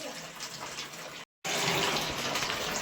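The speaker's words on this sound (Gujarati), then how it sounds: "હા ગરમ પાણી આવે લે બીજો ચાલુ એટલે ગરમ પાણી આવે." Hot water runs from a tap in a steady, close splashing stream that stops for a moment and then gushes back on more strongly.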